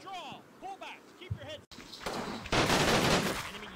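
Gunfire in the war game Combat Mission Fortress Italy, a dense burst of shots erupting after a short stretch of speech, loud and sustained through the second half.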